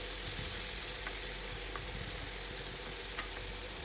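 Ivy gourd (kovakka) pieces fry in hot oil for a crispy vegetable fry, giving a dense, steady, close sizzle with a few faint taps as a spoon moves them, and no talking.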